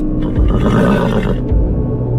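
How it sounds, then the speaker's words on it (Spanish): A horse neighs loudly and close, one long, shaking whinny with a couple of low snorts around it. "Montado en un soberbio caballo de Rosas"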